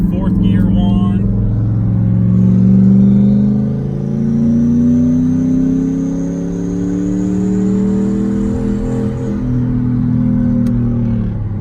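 Single turbo 2018 Mustang GT pulling hard in fourth gear on a bumpy road, its close, loud engine drone climbing steadily in pitch for about ten seconds with a faint turbo whistle above.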